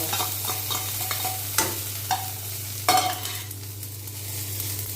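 Curry leaves sizzle in hot oil in a pan, giving a steady frying hiss under a few sharp stirring clacks, heard close and loud with no talking, and a constant low hum runs underneath.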